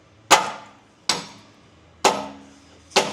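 A dead blow hammer strikes the rusty chassis of a Ford Ranger four times, each a sharp, loud metallic impact with a short ringing decay, spaced about a second apart.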